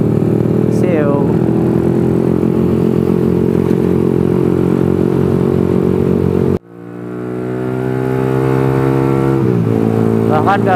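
An FU motorcycle on a city night ride holds a loud, steady high-rev engine drone in fifth gear near 8000 rpm. It dips sharply at a gear change, then climbs back up to a strong rising whine.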